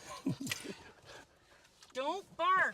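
A dog by a truck in the Arizona backcountry near Quartzsite pants in soft, uneven puffs, then gives two short, rising whimpers close by. Quiet human voices mix in around the dog's sounds.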